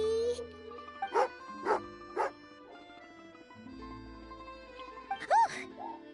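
A dog in Genshin Impact barks and yips in several sharp, angry bursts, then gives a higher whining yelp near the end, close and loud over quiet game music.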